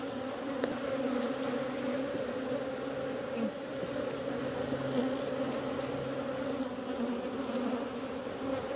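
Honey bees buzz in a dense, continuous drone from an opened hive during a colony split, close and steady throughout with no voices.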